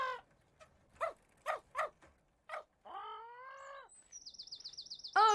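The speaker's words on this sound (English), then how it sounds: "Look, there's a parrot in the tree." Cartoon parrot in a tree in an animated children's story, giving a few short squawks followed by a warbling, trilling call and a rapid chirping whistle, close and fairly loud with no talk over it.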